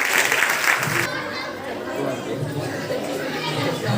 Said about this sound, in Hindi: उनके लिए जोरदार तालियां